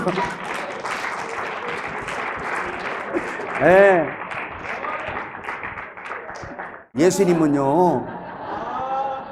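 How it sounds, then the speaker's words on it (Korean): A church congregation applauds steadily with dense clapping during a sermon, while voices cry out and chuckle over it, and the preacher's voice rises near the end. "박수 치세요, 박수."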